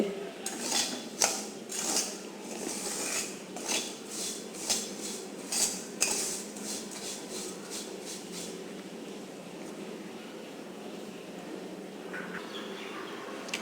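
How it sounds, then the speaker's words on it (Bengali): Vermicelli frying in a pan on a home stove, with a soft steady frying hiss and a series of light metallic clinks and scrapes from stirring that fade away after the first several seconds. "আমি এটাকে অনেকখানি ভেজে নেব"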